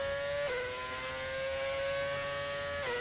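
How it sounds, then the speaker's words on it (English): A V8 engine in a Formula-style racing game at Azerbaijan howls in a steady, high-pitched whine, with two quick gear-change pitch drops. No one talks. "The V8 engine sounds."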